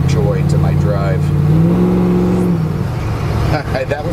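A classic Ford F150 Dentside 4x4 pickup's engine runs at about quarter throttle, a steady, loud, close mechanical hum that rises slightly and then eases off, with voices talking over it.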